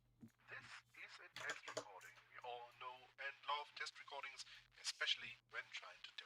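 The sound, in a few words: telephone-like distortion effect from Beatskillz Chorus plugin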